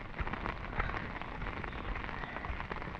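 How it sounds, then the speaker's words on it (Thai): Rain falls steadily at a hillside resort in Suan Phueng, a faint, even patter of drops on surfaces with no voices present. "ตอนนี้ฝนตก"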